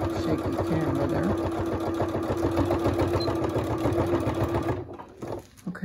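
Domestic sewing machine stitching down the middle seam of a handmade sensory baby toy, a steady rapid mechanical chatter that runs close and continuous for about five seconds before stopping, with no talk.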